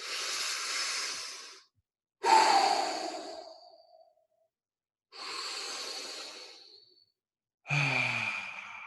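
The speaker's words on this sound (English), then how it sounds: "take a deep breath. Take 3 deep breaths." Four slow, deep breaths, long airy exhalations separated by quiet pauses, close and fairly soft.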